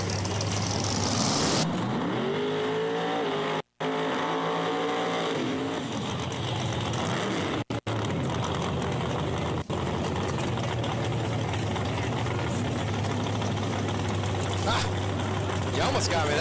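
Drag cars launch in a semifinal round, engines roaring loud and sustained with revving pitch sweeps and brief cutouts, a low steady drone underneath and a commentator talking over the noise.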